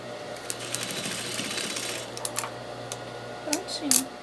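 Sewing machine running steadily while stitching a fine seam, a continuous close mechanical whir with small clicks, and a brief voice near the end.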